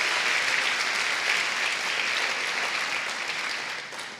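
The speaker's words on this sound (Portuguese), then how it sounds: "Pode aplaudir a ele." A church congregation claps in sustained, even applause that stays loud and steady before easing off slightly at the end, with no talking over it.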